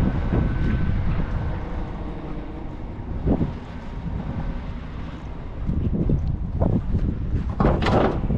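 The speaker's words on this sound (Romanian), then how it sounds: "Wow, ce vânt bate afară." Strong wind blows outdoors at the Jerez racing circuit, buffeting the microphone with a steady low rumble that rises into louder gusts near the end; no one speaks.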